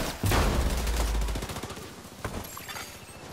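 Heavy gunfire in The Division 2, a loud close fusillade of rapid automatic bursts over a deep rumbling blast, thinning into scattered shots and distant firing.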